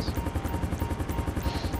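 Fast, even rotor thumping from an ADAC rescue helicopter in a roleplay video game, a steady pulsing chop that holds close and moderately loud throughout.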